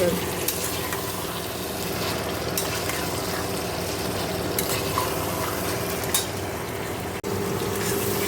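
A spice paste with onion, whole garam masala and dried chillies fries in a pan, giving a steady close sizzle broken by soft scraping stirs throughout.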